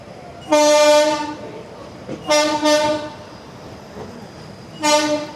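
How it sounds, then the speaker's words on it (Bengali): A passenger train from Malda Town toward Howrah sounds three loud horn blasts, long then two shorter then another, over a steady rolling rumble of rail cars. "এই ট্রেনটা আসলো মালদা টাউন থেকে ছেড়ে, যাচ্ছে হাওড়ার দিকে।"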